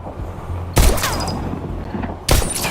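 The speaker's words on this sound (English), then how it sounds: "Now try to shoot the targets as they appear." Gunfire from the Bullet Train video game, two loud sharp bursts of shots at targets, the first near the start and another near the end, with a lingering ringing tail between them.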